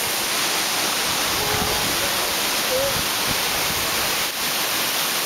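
Waterfall in Southeast Asia (Thailand, Laos or Cambodia) roaring as a steady, dense broadband wash of falling water, close and loud, continuous for the whole stretch with no voices over it.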